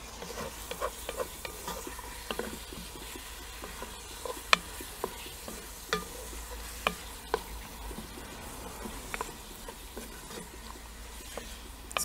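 Onions and garlic sizzle with ground beef in a Dutch oven, a steady frying hiss broken by repeated scraping stirs and clinks of a utensil, close and without talk.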